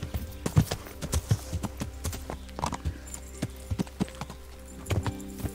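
Horse hooves clip-clop on a trail in the video game Kingdom Come Deliverance, an irregular run of distinct thuds over a low, quiet ambient bed with no talking.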